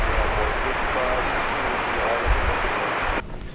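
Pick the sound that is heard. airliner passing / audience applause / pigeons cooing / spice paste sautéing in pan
airliner passing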